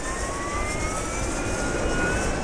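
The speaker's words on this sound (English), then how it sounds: "Wait till the engine boots up," Jet engine spooling up in ARMA 2, a steady loud roar with rising whine tones climbing over the full stretch, continuous and close with no voices.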